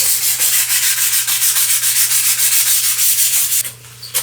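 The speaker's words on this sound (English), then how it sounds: "going to sand them both over my trash can like I did before." Hand sanding of small wooden pieces for a desktop Japanese rock garden, done over a trash can: steady rhythmic rasping strokes, close and loud, that stop near the end with a couple of faint knocks.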